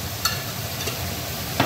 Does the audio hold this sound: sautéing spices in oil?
yes